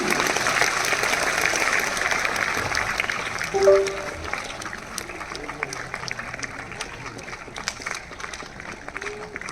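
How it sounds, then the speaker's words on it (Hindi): Audience applause welcoming a guest at an Allen Kolkata stage event in India, a steady dense wash of clapping that holds throughout, with a brief louder swell partway through and a host's voice faintly over it. "Give a huge round of applause"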